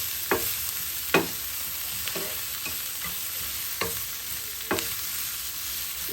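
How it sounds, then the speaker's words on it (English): Gizzards roast in a pan with ginger powder, a continuous bright sizzle with several sharp scraping stirs spaced about a second apart, close and steady throughout. "a little bit of ginger powder. And we're gonna let it roast."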